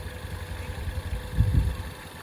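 A Ford Focus ST engine idles steadily after a turbo coolant line repair, a low, even rumble with a brief swell in the middle, heard alone without talk.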